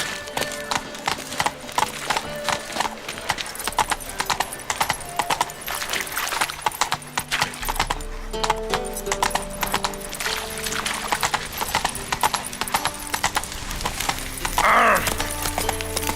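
Hoofbeats from Roach, the horse in The Witcher 3: Wild Hunt, clip-clop steadily and fairly loud through the whole stretch, with a brief whinny near the end over game ambience.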